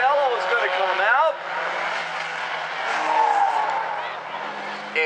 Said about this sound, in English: And Chris Brandon couldn't keep the car. Oh, Ryan Snow, contact with Warner